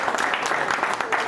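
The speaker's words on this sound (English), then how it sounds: "est-ce qu'on peut applaudir" Brief burst of audience applause at a conference with the Congolese community, dense clapping from a room full of people, loud and close, lasting just over a second.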